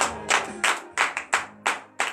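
A congregation claps in praise during morning prayer, seven sharp, close hand claps in a fairly even rhythm, with no voices over them.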